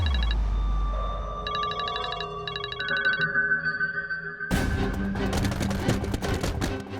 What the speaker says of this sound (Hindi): ये तुम्हें फोन क्यों कर रही है?